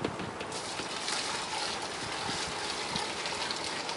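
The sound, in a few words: hot sparge water pouring into homebrew mash tun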